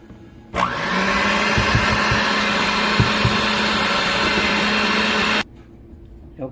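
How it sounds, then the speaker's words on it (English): A blender whirs steadily for about five seconds, blending browned coconut into box cake mix in a bowl, starting and stopping abruptly with a loud, even motor drone and faint knocks against the bowl. "blend the coconut that's in your bowl. Blend it in with your mix."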